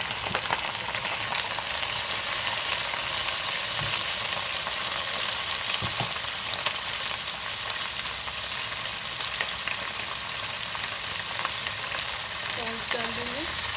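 Chicken pieces fry in a pan for palak (spinach) chicken curry, giving a loud, steady sizzle with occasional stirring scrapes throughout.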